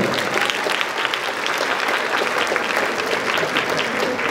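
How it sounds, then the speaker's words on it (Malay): Sustained applause from an audience at the Malaysia Teacher Prize 2023 awards ceremony, honouring the top 10 finalists; steady, dense clapping fills the whole stretch at an even level with no voices on top. "Sekali lagi tepukan untuk top 10 finalist kita."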